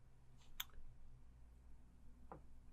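A computer mouse clicking OK on a pop-up during a web application hacking demonstration: a single faint, sharp click in a quiet room, with another soft click shortly after.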